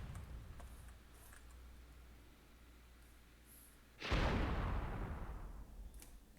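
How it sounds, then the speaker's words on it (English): In the video game Myth II Soulblighter, a single cannon shot booms out sharply after a few seconds of quiet ambient noise, then trails off in a rumbling decay. "when you hear that cannon shot is to just walk the other way by default"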